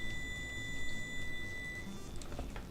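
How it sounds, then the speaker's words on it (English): A timer beeps with a steady, high electronic tone held through most of the stretch, fairly faint against light room noise, with no talking. "that blasted timer is gonna be the death of me"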